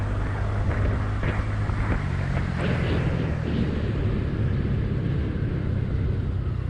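A TVS Ntorq 125 scooter in race mode accelerates hard, with a loud, steady engine roar and rumble, mixed with wind, that holds throughout the ride.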